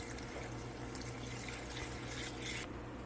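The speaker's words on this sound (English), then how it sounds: "Make sure you pour your beer down the side of the pot" Beer poured down the side of a seasoned pot for a crawfish boil makes a quiet, steady liquid splashing and trickling sound lasting a few seconds.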